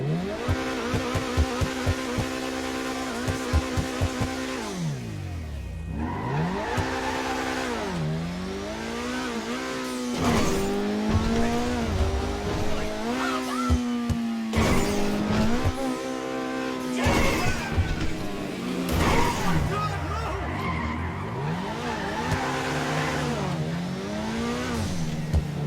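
An American sports car in GTA 5 revs up and down repeatedly, pitch climbing and dropping through gear changes, with occasional tire noise, loud and continuous with no talking.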